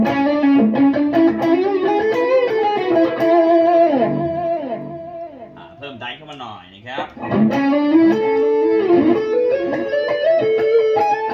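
A Gibson Les Paul Tribute 2017 electric guitar plays a distorted solo through a Boss ME-80 multi-effects unit, with sustained bent notes, a brief dip in level midway, then a loud return of fast lead lines.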